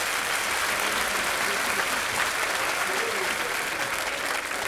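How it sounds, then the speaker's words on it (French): Sustained crowd applause for the pro drivers at the Marathon Jules Bianchi 2024 prize-giving, dense, even clapping filling the whole stretch at steady loudness with no pauses. "Applaudissements pour nos pilotes pro."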